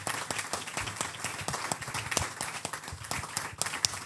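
An audience at the Contact Entreprises 2024 new-year greetings event applauds its guests with several seconds of steady, lively clapping, close and fairly loud, no talking over it.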